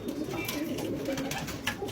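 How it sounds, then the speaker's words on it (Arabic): Pigeons from Najaf cooing close by in a bird market in Kufa, soft repeated throaty coos over a murmur of background noise. "هذا الحمام كله مال النجف، كله مال النجف"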